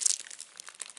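A plastic bag holding packed food crinkles and rustles up close in a quick series of crisp, dry crackles lasting about a second, with no talking.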